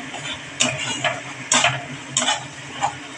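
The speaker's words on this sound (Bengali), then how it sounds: "এবং তেল ছাড়া অবধি কষাতে হবে।" Turmeric-spiced masala sautés in oil in a pan for a fish curry with ridge gourd, potato and tomato: a soft, steady sizzle broken by four sharp scraping strokes of a spoon against the pan.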